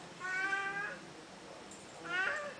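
A kitten meows twice, clear and close, with a short pause between the high, drawn-out cries.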